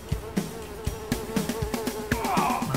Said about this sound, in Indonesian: Karena mbak saya lagi ngurusin lalat di sini.